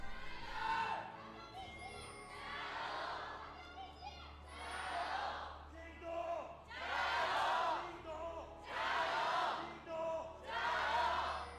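JDG esports fans in an LPL arena crowd chant in loud rhythmic bursts, six rising swells led by a deep-voiced chant leader, with a low steady hum beneath.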